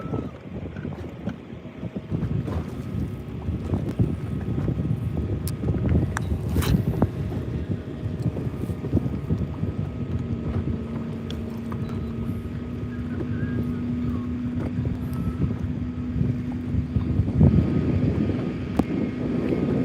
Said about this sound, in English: that wind is blowing kind of hard out here right now